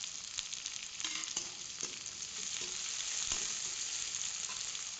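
Three large green chillies frying in hot oil in a pan, a continuous bright sizzle and crackle, close and steady with faint stirring clicks and no talk.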